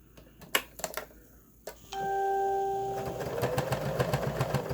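A sewing machine stitches the end of a fabric face mask, starting after a few sharp clicks and running as a steady, close mechanical whir with a faint rhythmic patter for the final seconds.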